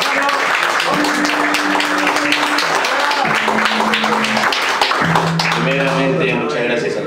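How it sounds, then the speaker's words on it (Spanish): Audience applause at a vinyl record launch event, clapping that carries on under talk, with voices and some tonal sounds running through it. "fuerte las palmas por favor para Discos Eternos"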